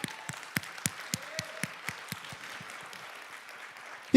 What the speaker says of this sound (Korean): 우리 하나님께 영광 박수 올리십시다.